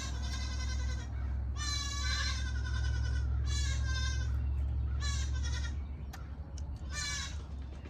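Baby goats on a farm bleating: several loud, wavering cries in a row, close, over a steady low hum in the background.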